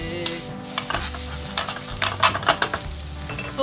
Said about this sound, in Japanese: 先ほどのチャーシューの煮汁を